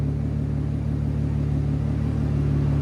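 A supercharged 3.0-litre V6 in an Audi S4 with downpipes and a Magnaflow exhaust idles close by, a steady deep low rumble with no talk.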